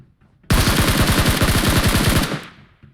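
A Scar-L rifle fires in a video game, one sustained rapid burst of about twenty closely spaced, loud shots that cuts off abruptly, with no talking over it.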